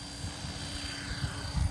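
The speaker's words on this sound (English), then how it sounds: "Ready for the helicopter to drill off." A steady helicopter rumble, low and fairly faint, with a thudding rotor throb that swells slightly toward the end as it takes off from the helicopter line at the Joe Nall 2023 event; no voices.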